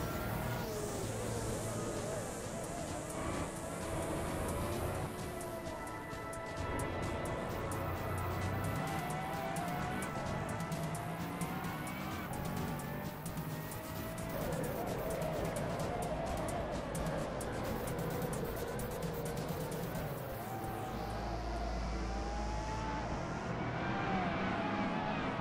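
Race cars rev and whine around a track in the Assetto Corsa racing game, engine pitch sweeping up and down with gear shifts, continuous and fairly loud, with a voice talking over them.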